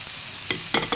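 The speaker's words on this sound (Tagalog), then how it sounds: "Gisa-gisa natin guys hanggang sa medyo mag yellow siya." Garlic, ginger and onion sauté in hot oil in a pan for chicken tinola, a brief sizzle broken by a few quick scraping stirs.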